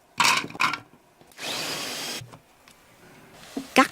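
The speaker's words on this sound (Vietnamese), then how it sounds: "Mình cho vào máy xay cho nhanh." An electric blender briefly whirs at close range, grinding chopped onion and garlic, with short clattering bursts before and after the steady motor run.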